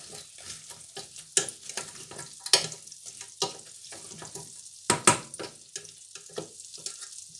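Meat rolls, oiseaux sans tête, cooking in a pan: sizzling crackle broken by repeated scraping and stirring strokes, uneven bursts, close up, with no voices.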